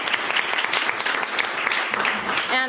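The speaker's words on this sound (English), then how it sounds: "We should give ourselves a round of applause" Applause from an audience of women at a panel session, a steady dense wash of clapping that ends with a voice starting to speak near the end.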